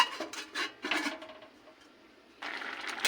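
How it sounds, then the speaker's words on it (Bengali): A lid going onto a cooking pot of shim (flat bean) dal bhapa: a few soft metallic scrapes and clinks come in short bursts, fairly faint and close, with a quiet gap before a final rustle. "এবার ঢাকা দিয়ে দেব।"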